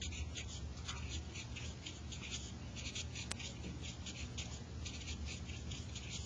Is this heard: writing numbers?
yes